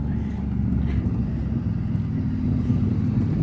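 A loud vehicle exhaust drones steadily nearby, a dense low rumble with wind buffeting the microphone and no speech over it.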